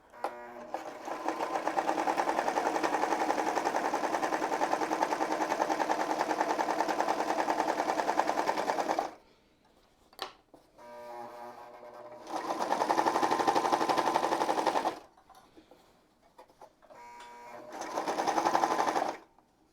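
An old sewing machine runs through fabric in long, fast, droning bursts of rapid stitching, stopping and restarting three times with short quiet gaps and a brief clunk between, close and loud.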